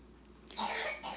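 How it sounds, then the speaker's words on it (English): A few quick coughs from a child, faint and somewhat distant, in a quiet room. "my kiddo has a bunch of coughs."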